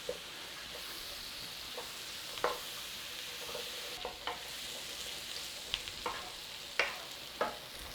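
Flour stirred into vegetables in a pan for a Guinness shepherd's pie, giving a faint steady sizzle with a few soft scraping stir strokes, spaced irregularly, close by and with no talk.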